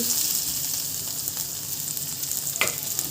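Finely chopped garlic sizzles in hot oil in a pan on a gas stove, a steady bright frying hiss with one sharp scrape or crackle near the end, no voices.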